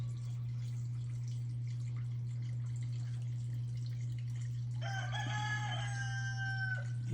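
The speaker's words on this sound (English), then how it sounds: "Here's again that rooster." A rooster crows once over a steady low hum, its long harmonic call rising then holding for a couple of seconds near the end.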